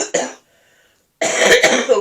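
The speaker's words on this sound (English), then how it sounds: "I've still got this blinking cough" A person coughs close by: one short cough, a pause of near silence, then a longer harsh run of coughing.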